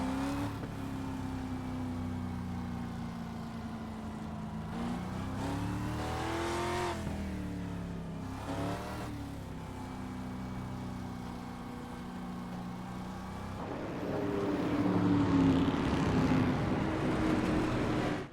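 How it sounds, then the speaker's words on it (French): Street stock race cars circle a short oval track, their engines droning and rising and falling as they pass, with revving swells and a louder, rougher engine roar near the end, no talk over them. "Le leader présentement, la 56 Gazot Racing de M. Gingras. Ça roule très bien pour lui"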